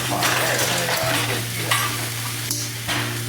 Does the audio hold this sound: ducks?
no